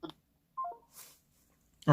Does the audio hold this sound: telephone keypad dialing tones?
yes